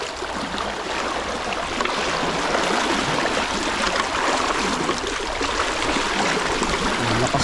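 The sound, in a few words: strong river current flowing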